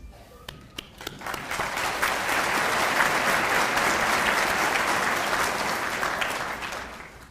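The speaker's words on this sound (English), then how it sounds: "we applaud you" A graduation audience breaks into applause, a few sharp early claps swelling into a dense, loud, sustained ovation from a large crowd that holds steady before easing off at the close.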